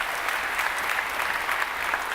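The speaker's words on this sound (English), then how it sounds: "give Brad a round of applause if you don't mind." A church congregation gives a round of applause during a sermon, a soft, steady wash of many hands clapping at a distance for a couple of seconds.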